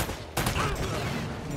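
Burst of video-game gunfire from Uncharted: Drake's Fortune, a sharp onset followed by a rapid, dense volley of shots that stays loud through the short clip, with a voice faintly in the mix.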